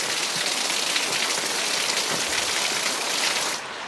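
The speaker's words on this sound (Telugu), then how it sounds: "గత 1 అవర్ నుంచి వాన దంచి కొడుతున్న పరిస్థితి కనిపిస్తుంది" Heavy rain pours down in Hyderabad in a dense, steady hiss of countless drops striking surfaces, loud and unbroken throughout.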